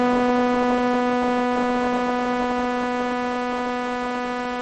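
A steady, buzzy synthesizer tone holds one pitch, its filter cutoff shifting only slightly, a continuous close drone with no voices.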